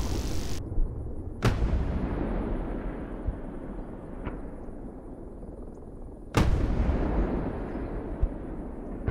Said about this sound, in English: What's the explosions? That's our ground units.